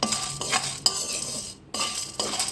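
Curry leaves fry in a pan over a low flame while a utensil stirs them, making close, repeated scraping and rustling strokes over a gentle sizzle, briefly pausing near the middle.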